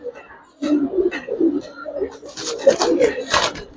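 A pair of young Giribaz pigeons coo in low, repeated rolling phrases nearby, with a person talking over the latter half.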